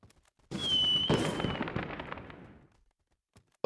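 A burst of fireworks in the video game WorldBox erupts after a moment of quiet: a whistling rise followed by rapid crackling pops that fade out over about two seconds.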